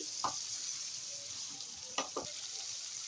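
Chicken and papaya sauté in a pan with a constant soft sizzle and a few light stirring scrapes, close and alone.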